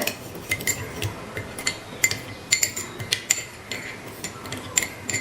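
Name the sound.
spoon stirring and mixing hair oil in a container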